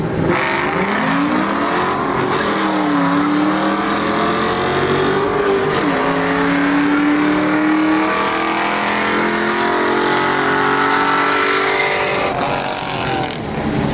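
Ford Mustang 4.6L 4-valve dual overhead cam V8 revving hard to high RPM, a loud continuous engine roar with repeated rising and falling pitch sweeps, sustained throughout with no talking.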